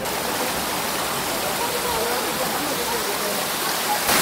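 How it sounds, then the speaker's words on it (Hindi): Water pours steadily down the stone steps of Galta Ji temple in Jaipur into a women's bathing pool, a dense, continuous rushing wash that holds level throughout with no gaps. "तो देखिए कैसे पानी आ रहा है सीढ़ियों से।"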